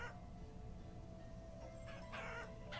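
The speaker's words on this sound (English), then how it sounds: "we got a little cockerel" A young cockerel crows in the Vintage Story video game, a short, faint crow rising near the end over low background ambience, with no talk.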